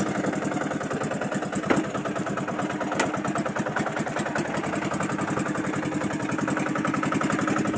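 A small fishing boat's engine chugs steadily after restarting with the propeller turning, a close, loud, rhythmic mechanical drone that runs continuously throughout.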